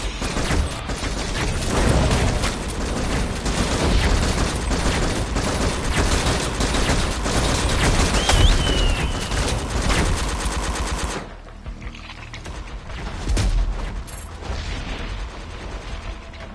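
Rapid automatic turret fire in a video game, a loud sustained mechanical clatter of gunfire that runs for about eleven seconds, then drops to quieter scattered bursts and clanks.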